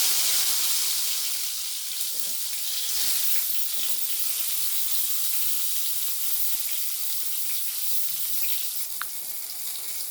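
Aubergine slices fry in oil in a wok, making a soft, even hiss that runs continuously at a fairly low level, with no one speaking.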